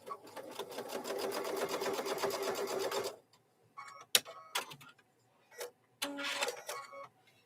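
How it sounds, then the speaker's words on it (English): A sewing machine runs steadily for about three seconds, stitching straight across fabric while making bowl cozies, then stops; a few short handling clicks and rustles follow in the quiet. "You're just going to stitch right across."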